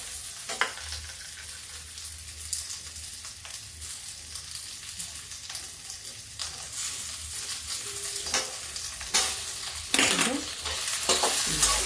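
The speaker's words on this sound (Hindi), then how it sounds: "अब देखिए इसमें आलू डाल देते हैं, जिससे भुन जाती है, करारी हो जाएगी।" Potatoes fry in a pan for a soya curry, a steady sizzle punctuated by spatula scrapes and clatters that grow louder and busier toward the end, close by.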